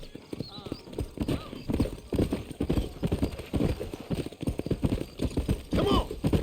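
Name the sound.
horses galloping in the video game Red Dead Redemption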